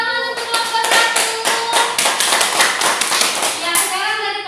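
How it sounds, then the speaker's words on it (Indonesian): Rhythmic group clapping in a fifth-grade classroom, children clapping in unison with sharp, evenly spaced beats for about four seconds, with faint kids' voices mixed in. "tepuk tangan untuk kelompok 1."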